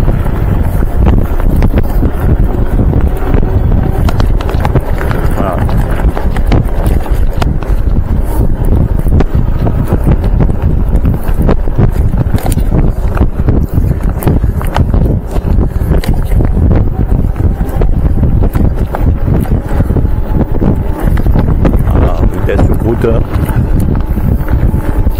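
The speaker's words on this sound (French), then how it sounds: "Il y a un peu de vent quand même, je sais pas si vous l'entendez dans le son du micro" Wind buffets a microphone while someone cycles at about 20 km/h along a route from Montpellier to Frontignan shared with other bikes and pedestrians. It makes a loud, steady, low rumbling roar with constant gusty flutter, filling the whole stretch without pause.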